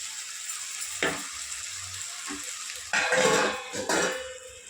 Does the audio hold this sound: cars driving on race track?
no